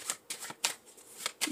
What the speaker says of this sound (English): Let me do a quick shuffle.